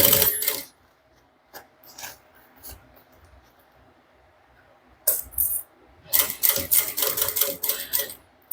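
Sewing machine stitching a fabric handbag while a flap is attached and the front closed, short rattling bursts of stitching separated by pauses, with a longer quick run near the end.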